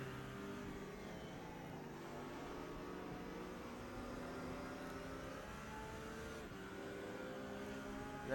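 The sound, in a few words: Mercedes GT3 race car engine in a Bathurst racing video game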